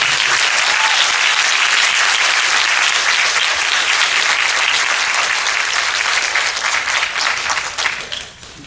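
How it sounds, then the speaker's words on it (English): A banquet audience at a cross-country team event gives sustained, loud applause, a dense roar of many clapping hands that holds steady for several seconds before fading out near the end. "So if we could please give Mrs. Kirsten a round of applause."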